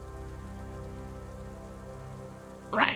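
Steady video game rain patters and hisses evenly on surfaces under a faint low drone, continuous and moderately loud, ending in a sudden brief burst of louder noise.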